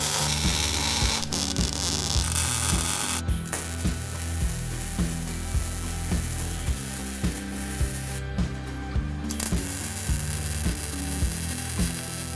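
Steady crackling sizzle of a welder tacking a scrap steel grinder rack frame together, continuous buzzy arc noise with short breaks and hum, no talking.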